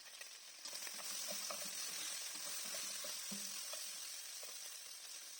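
Meat sizzles steadily in a hot pot for Turkish meat-and-chickpea rice pilaf, with scattered scraping and clinking as it is stirred; a dense, close frying hiss throughout.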